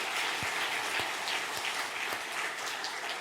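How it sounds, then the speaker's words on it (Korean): A church congregation applauds during a Sunday thanksgiving service, a steady dense wash of many hands clapping at once, sustained and fairly distant throughout with no voices on top. "박수로 영광 돌리겠습니다"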